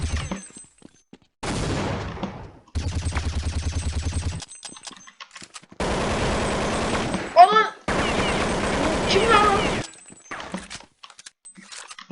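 Bursts of gunfire from the video game Counter-Strike 1.6 on a jailbreak server, with rapid automatic fire in loud separate spells across the clip, interspersed with game sounds and brief gaps.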